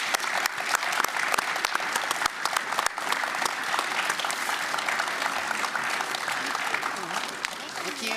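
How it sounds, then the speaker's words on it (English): A dense, loud round of applause from an audience at a Chamber of Commerce candidate forum for mayoral and school board candidates, sustained and even throughout. "Let's give both candidates a round of applause."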